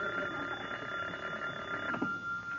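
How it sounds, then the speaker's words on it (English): An old-time phone rings on a 1949 tavern-comedy radio show, a steady electric bell trill running the full length at moderate loudness against a busy room-tone background. "Oh, that darn phone."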